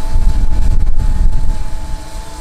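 Gusty wind buffets the microphone, producing a loud low rumble that surges and eases in uneven waves.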